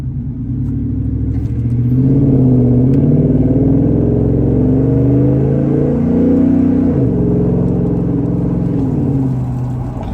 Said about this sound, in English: I just got in the car and I just had to floor it to get across an intersection